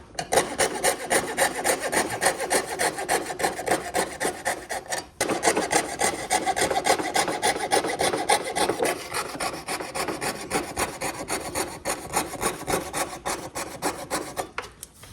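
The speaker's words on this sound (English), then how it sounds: "as soon as I start cutting, I'm going to angle the saw a little bit" A hand saw cuts through wood trim with a continuous, rapid rasping stroke rhythm, close and steady, briefly pausing about a third of the way through before resuming.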